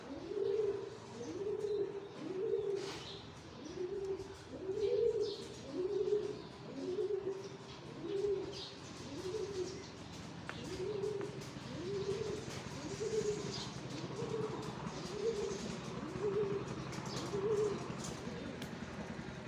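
Doves coo in a steady repeating rhythm close by near a factory, with faint chirps from other birds scattered in the background.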